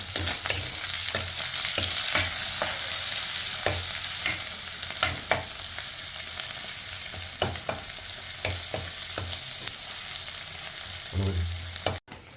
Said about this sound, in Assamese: মাছখিনি প্ৰায় 2-3 মিনিট বা 4 মিনিট মেক্সিমাম ভাজিলে হ'ল। যিহেতু শুকান মাছ বহুত বেছি ভাজিব নালাগে।